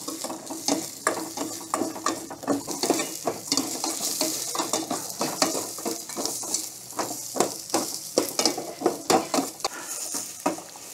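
Onion is sautéed in a pan at home. A steady sizzle runs under repeated scraping and stirring strokes from a utensil against the pan, in close, uneven bursts with no talking.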